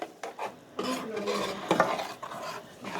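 A spoon stirs chicken bacon ranch pasta sauce in a pan, making repeated close scraping and sloshing strokes over a soft simmering sizzle, with brief pauses between movements.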